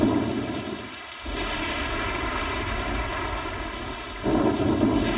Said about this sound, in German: Das entwickelt sich hier zu einem richtigen Sturm.